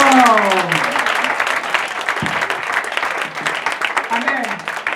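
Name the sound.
church congregation clapping and cheering for Jesus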